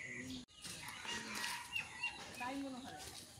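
Chickens cluck around a rural village homestead, short bursts scattered over a few seconds while people talk nearby.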